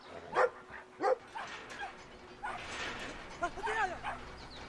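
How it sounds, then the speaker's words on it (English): Small yappy dog barking in the video game Brothers: A Tale of Two Sons, a few sharp yips standing out briefly over game ambience and quiet background sound. "You're scared of a little yappy dog?"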